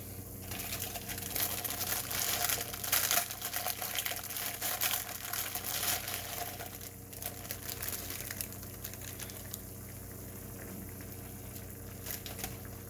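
Water coming to a boil in a pot or kettle, a continuous close bubbling and crackling hiss that swells and settles, alone with no talk.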